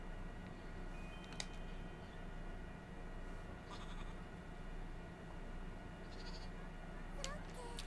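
A goat bleats in short, agitated bursts against a steady outdoor hum, a few sharp cries standing out over the noisy background.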